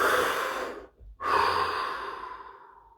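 A slow, deep breath close to the microphone: a long airy inhale, a brief pause, then a long sighing exhale that gradually fades, with no other sound.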